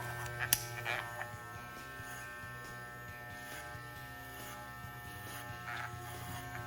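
Electric hair clippers fitted with a #1 guard run close while cutting hair for a zero guard fade, giving a steady motor buzz with small shifts in pitch and texture as the blade moves through the hair.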